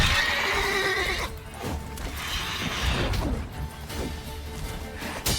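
A horse whinnies and neighs loudly and close in The Witcher 3 Hearts of Stone, with hoof clatter and game noise mixed in.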